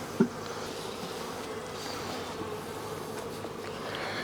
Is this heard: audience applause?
no